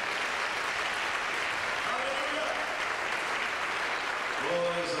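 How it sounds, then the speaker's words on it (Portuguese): A congregation at a church prayer service applauds with a steady, moderate wash of clapping that continues throughout, and a voice comes in faintly near the end. "Quem pode aplaudir ao Senhor nessa hora?"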